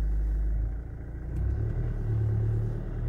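A car engine idles as a low rumble and then revs gently, with engine speed held near 1200–1300 rpm as the clutch is eased up to pull away, producing a steady, moderately loud hum.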